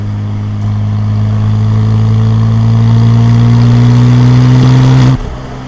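A Porsche 996 Turbo Cabriolet with a 6-speed manual on a wet road, its engine droning loud and steady as it works down through the gears, then cutting off sharply near the end.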